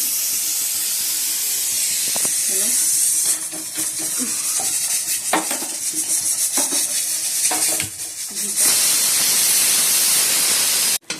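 A pressure cooker boiling potatoes releases a loud, continuous hiss of steam that fills the space, with brief clinks and kitchen knocks underneath and a sudden cutoff at the end.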